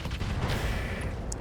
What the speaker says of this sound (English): That's what I like to hear. Explosions.